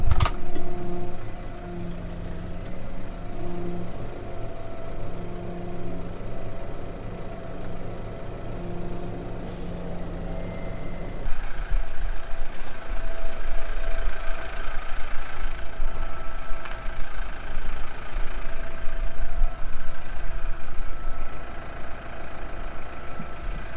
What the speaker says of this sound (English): Just casually driving down the road with the cab of a Peterbilt on my forks.